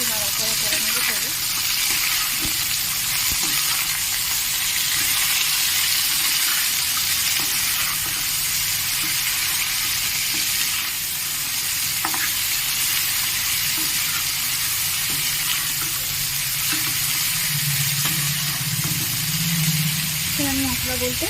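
A hilsa fish head frying in a pan, a dense continuous sizzle with occasional soft stirring scrapes, close and loud, while a voice talks faintly underneath.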